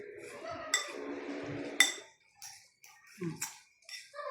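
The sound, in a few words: mixing creamy cheese dish in a pan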